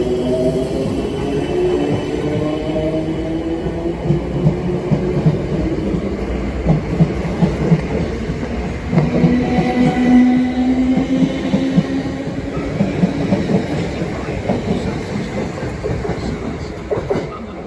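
A British Rail Class 455 electric train runs at a station with a loud, continuous rumble, rhythmic wheel clatter and thin squealing tones rising above it. No one speaks.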